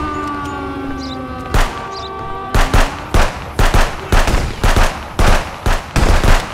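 Heavy shotgun blasts in a police-themed video game, a series of loud single booming shots that begin sparsely and then come in quick succession after a wavering siren-like tone.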